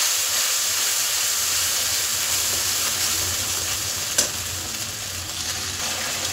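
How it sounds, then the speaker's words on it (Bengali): Ground white and black mustard paste fries in oil with cumin seeds in a pan, a steady close hiss and sizzle throughout with one brief knock of a utensil, no talking. "তো সর্ষেটা কষানো হয়ে গেছে"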